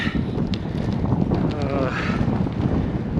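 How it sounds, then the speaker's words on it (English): Steady headwind roars and buffets against the microphone of a rider cycling outdoors, a continuous loud low rumble lasting throughout with no break. "Been a long day in the saddle. A lot of headwind."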